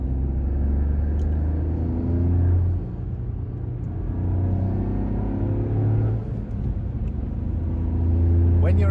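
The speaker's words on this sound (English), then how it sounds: "you can hear the Eventuri very subtle in the background." Toyota GR Yaris 2025 facelift engine with an Eventuri intake, a steady low cabin rumble with a faint intake note underneath while cruising gently, and a voice talking over it.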